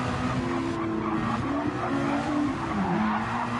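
In a Suzuka racing video game, a race car's tyres squeal hard under very late braking, a sustained wavering screech over the continuous roar of the engine.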